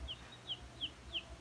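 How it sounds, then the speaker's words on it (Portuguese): Baby chicks peeping: four short, high, downward-sliding peeps at an even pace, fairly faint over a low background hum. "E o pintinho faz piu, piu"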